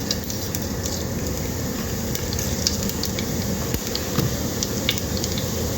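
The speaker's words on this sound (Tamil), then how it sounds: "கடுகு பொறியிட்டோம் கடுகு நல்லா பொரியுது உளுந்து போடுவோம் பொறிட்டோம் சீரகம் போடுவோம்" Mustard seeds, urad dal and cumin spluttering in hot oil for a bitter gourd and bottle gourd poriyal, a steady dense crackle and sizzle close up with scattered sharper pops, no voices.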